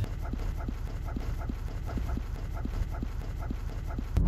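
Dogs pant rapidly and shift about inside a moving car, with quick, evenly spaced breaths over the low hum of the road.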